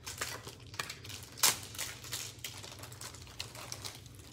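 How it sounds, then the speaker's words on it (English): The paper sleeve of a Pokémon card pack with an Ultra Ball cover crinkles and crackles as it is torn open. The rustling is close and continuous, with one sharper crackle partway through and no talking. "Why does paper have to be so loud?"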